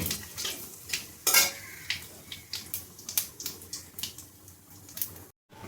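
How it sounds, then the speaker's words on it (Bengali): Cumin, nigella and dry red chillies temper in hot fish oil for a rohu fish curry, giving a soft, fairly faint sizzle broken by repeated clinks and scrapes of a spatula stirring in the pan. "এবার আমি ফোড়নটাকে একটু ভেজে নেব।"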